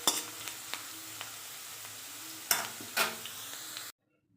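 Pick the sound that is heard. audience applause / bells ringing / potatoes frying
potatoes frying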